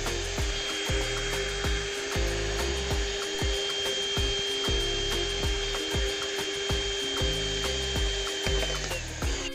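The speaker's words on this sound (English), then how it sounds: "we use a piece of old sheet metal or an L profile in which we drill a hole" A steady mechanical grinding hum with regular rhythmic bursts as a drill bores a hole through old sheet metal, continuous and fairly close with no talking.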